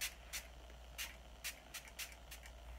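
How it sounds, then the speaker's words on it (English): Several short, soft hissing bursts of Too Faced 3-in-1 primer spray misted onto a face at irregular intervals, faint and close, with no speech. "So I'm just gonna spray my face."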